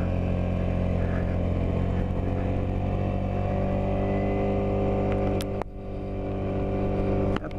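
A Suzuki Burgman 200 scooter climbs Chillohalee Mountain, its engine a steady, even drone throughout with a brief dip near the end before picking back up.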